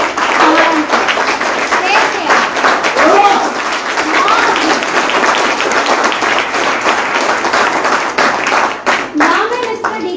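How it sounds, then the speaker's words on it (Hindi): An audience at a direct-selling training event in Kaimur, Bihar claps continuously and fairly loudly throughout, with an excited voice speaking over the applause. "तो एक बार उस मालिक के लिए ताली बजा दीजिए"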